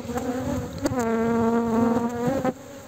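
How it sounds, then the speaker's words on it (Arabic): Honeybees buzz steadily in a crowded ten-frame hive, a dense, close drone with sharp pitched whines as individual bees pass near, continuous for a few seconds and alone without talk. "النحل في هذه الخلية."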